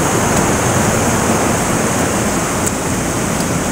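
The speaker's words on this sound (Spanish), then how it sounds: "Miren, vamos a mostrar aquí el río." Steady, loud rushing of river water flowing near coffee plantations, a constant broadband roar with no pauses. No one speaks over it.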